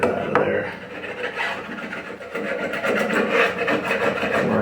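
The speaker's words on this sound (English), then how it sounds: "I just want to countersink enough to get some of that splinters out of there." Steady rasping and scraping as a tool countersinks wood on a billiard rack to clear out splinters, a rough grinding texture running continuously at close range.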